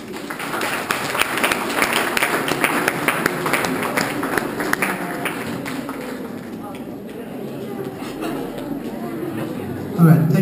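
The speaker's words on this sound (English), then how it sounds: "I think she does deserve another big round of applause, ladies and gentlemen" Round of applause from an audience at a university excellence awards ceremony, a steady dense wash of clapping that holds for several seconds before easing off, with some chatter mixed in.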